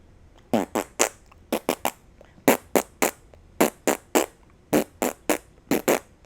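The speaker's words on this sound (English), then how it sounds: "Maybe if you want me to fart." A run of roughly thirteen short, loud, close fart bursts, most arriving in quick pairs or triplets with brief gaps between them, with no talking over them.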